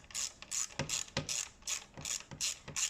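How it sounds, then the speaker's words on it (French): A hand ratchet tightens a spark plug on a Fiat 500X engine, giving about eight quick, crisp bursts of clicking in an even back-and-forth rhythm, close and clear with no voices. "je peux reprendre mon cliquet, le mettre en serrage"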